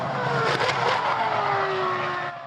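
A high-pitched Formula One racing engine screams past, its whine climbing then sliding downward as it fades away.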